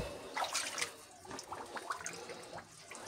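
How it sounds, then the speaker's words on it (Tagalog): Water trickling and splashing as it flows in through a hole, a faint close gurgling with uneven little bursts and no talking. "pumapasok yung tubig papunta rito"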